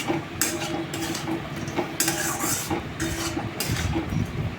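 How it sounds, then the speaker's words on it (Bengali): Capsicum strips are stir-fried in a pan. A spatula scrapes and clatters against the metal over a steady sizzle, with repeated stirring strokes, close and fairly loud. "ক্যাপসিকাম দিয়ে আমি বেশিক্ষণ ভাজাভাজি করব না, কারণ ক্যাপসিকামের সবুজ রঙটা চলে যাবে।"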